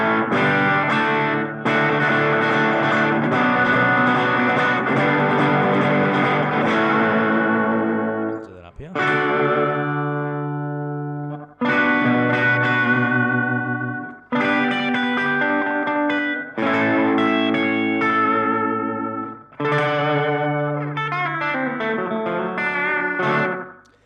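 A Gretsch Brian Setzer Black Phoenix electric guitar strums a series of rockabilly chords with effects and reverb, each chord ringing out long and loud before the next, with no one speaking.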